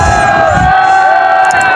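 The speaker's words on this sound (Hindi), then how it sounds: "ये देखो सारी आवाम चीखने लगी, चीखो पुकार सुनो इनकी" Crowd of riders screaming together on a boat ride as it swings upward, a loud sustained wall of shrieks and yells from many voices close by.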